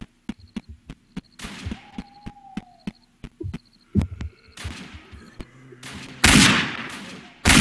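Gunfire in the Roblox game Apocalypse Rising: a string of sharp, isolated shots at a steady pace, then a few louder, closer bursts near the end over a low hum.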